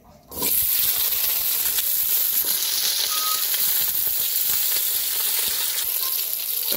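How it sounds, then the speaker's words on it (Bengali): Green chillies hit a little hot oil in a village kitchen, setting off a sudden loud sizzle that holds steady and close for several seconds with no talking. "হালকা তেল দিয়ে দিলাম, তো প্রথমে কাঁচামরিচ গুলো দিয়ে দিই।"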